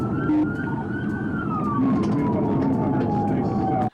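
An emergency siren wails steadily and loudly, its pitch slowly falling over a rumbling traffic background, then it cuts off abruptly.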